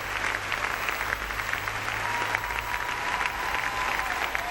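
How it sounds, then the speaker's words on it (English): Sustained applause from the final six dance couples at the Blackpool Dance Festival Open Professional Latin final, clapping for the orchestra in a large ballroom; dense, steady crowd clapping throughout with a low hum underneath. "this is the last 6 couples applauding the orchestra"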